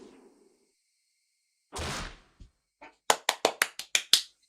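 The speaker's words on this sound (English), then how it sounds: "I shouldn't clap." Hands clap seven times in a quick, fairly even burst, each clap sharp and close, following a brief rustle and a couple of soft taps in an otherwise quiet room.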